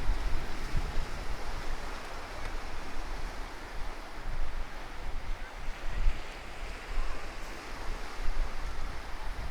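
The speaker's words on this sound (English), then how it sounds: "There's the Black Sea, loads of people in the water." Black Sea waves at Burgas beach, a continuous wash of surf with rolling swells, mixed with wind buffeting the microphone and no voices.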